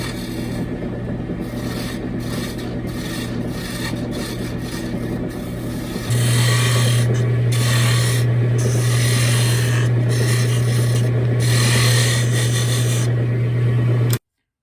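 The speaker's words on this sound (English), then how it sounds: "It's just a cutoff tool." A cutoff tool bites into wood spinning on a lathe while a gouge handle is being turned, with a steady motor hum under a continuous rasping scrape that grows noticeably louder about midway.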